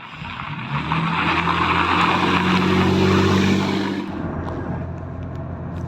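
An old restored car, a W21, drives past with a loud engine drone that swells and then fades out abruptly near the end, with no talk.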